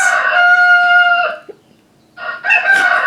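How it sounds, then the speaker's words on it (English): A cockerel crows loudly and close, two long harmonic calls separated by a short pause, alone with no talk. "That's the cockerel saying goodbye."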